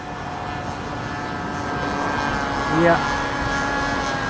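A 60-size Reactor RC model biplane engine drones steadily in flight, heard at a distance as a continuous hum under brief talk, with a short swell near the end as it passes.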